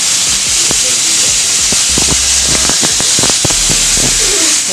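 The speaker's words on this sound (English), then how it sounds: "We're just trying to sear it a little bit, give it some crispiness just before we serve it." Sous vide meat sears in a hot pan, giving a steady loud sizzle with scattered sharp pops and crackles, while people talk quietly in the background.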